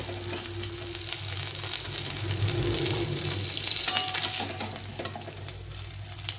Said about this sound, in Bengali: সবগুলো মাছই সুন্দরভাবে ভেজে নিয়েছি।